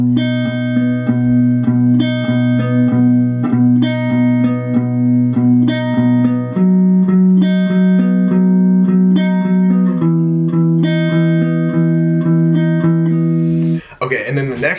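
Guitar riff from a song, strummed chords with sustained, ringing tones that shift between shapes every few seconds, played close and steady for the whole stretch with no talking.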